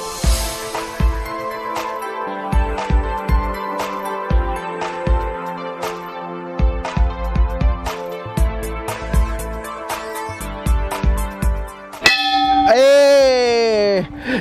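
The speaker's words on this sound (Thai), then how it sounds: "นี่เรามาตีระฆังรักครับ" A love bell at a snowy spot in Hokkaido, Japan, is struck again and again, giving a run of clear, ringing metallic strikes in an uneven rhythm, then a brief burst of other sound at the end.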